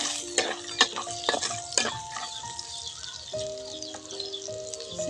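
Garlic goes into a hot frying pan for a Filipino guisadong miki stir-fry, with a few sharp metallic scrapes and clinks from the spatula over a soft, steady sizzle, and no talking.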